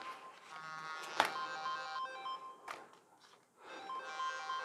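A phone ringtone plays a repeating electronic melody of short tonal notes, fairly faint and heard indoors, broken by a few sharp clicks and knocks.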